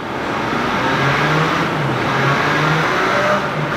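An MV Agusta motorcycle engine revs on a dyno test, a loud sustained roar whose pitch rises and falls through the run with no voices over it.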